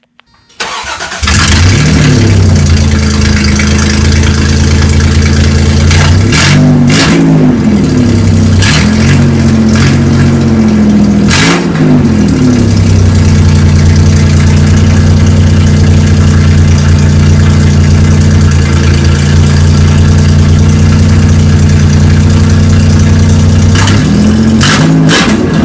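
A car with its muffler cut out and no tailpipe starts up and settles into a loud, raw, popping idle, with several sharp revs rising and falling over the rumble before it drops back to a steady idle.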